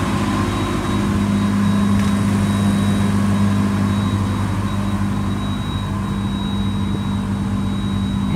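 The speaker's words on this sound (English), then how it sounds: "Motor sounds good. It idles smooth." A 2006 Ford E-450 20-passenger bus with a wheelchair lift idles steadily, a loud, smooth, constant engine drone with a low hum and a faint high whine, unchanged for the whole stretch.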